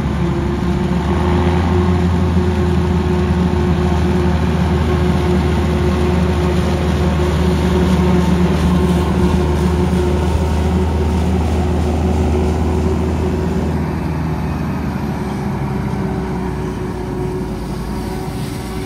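A loud, deep New Holland T7 tractor engine rumble dominates throughout as it passes close during a maize harvest, steady, slowly easing off toward the end, with wind noise mixed in.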